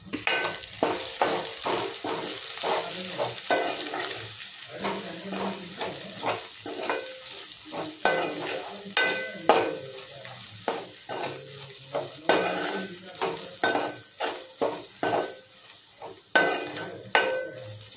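Sliced onions and masala powder fry in a pan for chicken biryani, a continuous sizzle broken by repeated scraping strokes of a spoon stirring against the pan, close and moderately loud with no talking.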